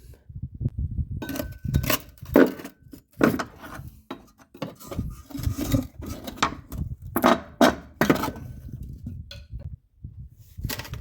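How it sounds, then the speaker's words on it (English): Rear shock on a 2011 Honda Odyssey being wiggled and worked off its long mounting stud: irregular metallic knocks, scrapes and clunks in bursts, close up, with short quiet gaps between. "I just had to wiggle it around a little bit to get it off of this long stud"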